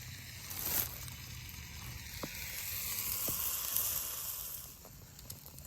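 Eggs sizzle and crackle in a pan over a campfire outdoors, a soft steady frying hiss with a few faint clicks and knocks, fairly quiet and with no talking.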